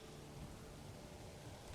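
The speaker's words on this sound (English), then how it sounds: "It's raining again. It is spring." Rain falls in the medieval city-building game Manor Lords as a faint, steady patter and hiss with no talking.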